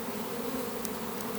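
Honey bees hum in a steady, dense buzz around an open beehive being split, a constant swarm drone that stays loud and even throughout with no talking.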